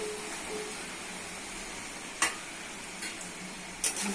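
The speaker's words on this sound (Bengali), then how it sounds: "ভালো কষিয়ে নিতে হবে" Chicken with okra and potatoes stir-fried in a pan, a soft steady sizzle with a few scraping clicks of the spatula. There is no talking.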